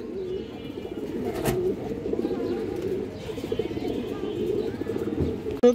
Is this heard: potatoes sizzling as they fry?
no